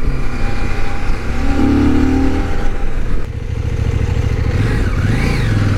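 A CF Moto 800 MT Touring motorcycle pulls away and accelerates with a steady, loud engine drone and rising revs, heard up close from the rider's position over wind and road noise.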